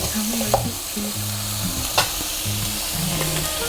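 Shrimp frying in a pan for Thai basil fried rice, a steady close sizzle with a spatula stirring and scraping, a couple of sharper knocks against the pan, no voices.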